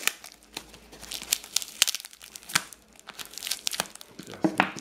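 Packaging holding a large Soviet commemorative five-ruble coin crinkles and tears as it is opened, with sharp close crackles and rustles in quick irregular bursts.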